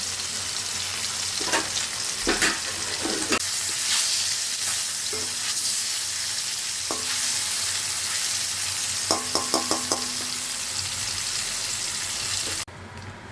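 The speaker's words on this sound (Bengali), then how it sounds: "মাছ হালকা করে ভাজা হয়ে গেছে এটাকে উল্টে দেবো" Loud, continuous sizzling of hilsa fish frying in mustard oil in a pan, with scattered utensil clinks and scrapes, close up and without talk.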